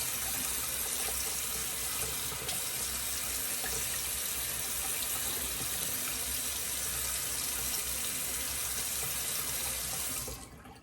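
Water runs steadily from a tap to wet a razor during a shave, a constant close hiss and splash that carries on without a break for about ten seconds before cutting off at the end.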